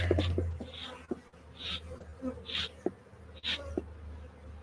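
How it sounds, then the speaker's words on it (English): Honey bees swarming over hive frames during a honey harvest, a close buzzing hum that swells and fades as individual bees pass near, with some handling noise. "there's already heaps of bees on them"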